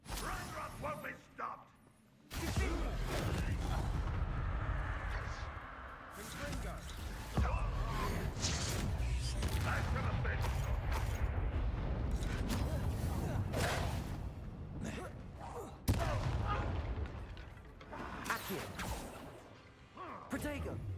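Bombarda and Confringo spells burst and crash in Hogwarts Legacy combat, sharp explosive impacts and whooshes layered over a busy fight with shouted voices.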